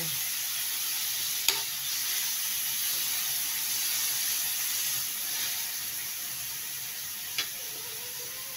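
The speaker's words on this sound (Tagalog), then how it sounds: "Gisa muna natin yung beef natin sa butter." Beef sautés in butter in a pan, with a steady, soft frying sizzle throughout and a couple of faint, brief utensil taps.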